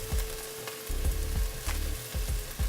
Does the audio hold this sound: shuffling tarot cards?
no